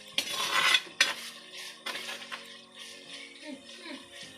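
Slit green chillies being stirred and sautéed in a pan for a toddy-shop style sail fish curry, with a spoon clinking and scraping against the metal several times and a faint sizzle underneath.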